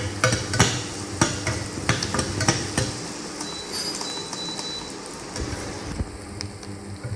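Masala powder being sautéed in a pan for vegetarian egg masala: a steady sizzle with repeated sharp scrapes and taps of a spoon against the pan, fairly close, with no talk.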